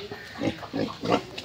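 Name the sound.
pig on a farm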